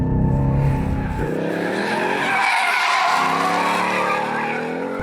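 A Ford Mustang brakes hard on a race track, its tires squealing and skidding loudly and steadily for several seconds over a constant engine roar, close and with no one talking.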